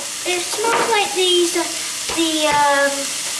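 Garlic fries in a hot pan with a bright, continuous sizzle and occasional stirring scrapes, while voices talk over it.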